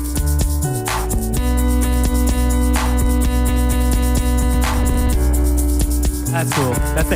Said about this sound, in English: Here's the beat repeat on the chords.